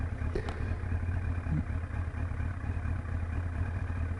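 A Yamaha R1 street motorcycle's engine follows behind on the road, a faint, steady low rumble at a distance with no voices over it.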